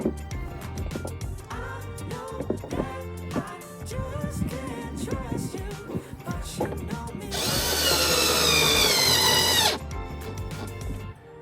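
A power tool tightens screws on a Polaris Ranger pulse bar, giving one loud, steady whirring burst of about two seconds amid nearby handling clatter and talk.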